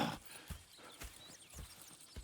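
Horses in the Red Dead Redemption 2 game clip-clop in a steady, close rhythm of hoof strikes on hard ground, with faint whinnying sounds over a quiet backdrop.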